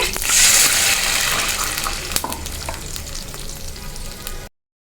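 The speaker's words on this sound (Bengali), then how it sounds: "একটু পানি দিয়ে দিচ্ছি" Water poured into a pan of frying pabda fish curry with onion paste and oil sets off a loud hissing sizzle that gradually settles into a steady bubbling fry with occasional stirring scrapes, no voices.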